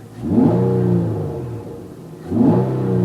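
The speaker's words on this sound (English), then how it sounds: "Here's how the car sounds cold. Couple revs." An 8th-generation Nissan Maxima on a cold start gets two quick revs, its engine climbing and falling in two loud, close swells over a steady stock-exhaust idle.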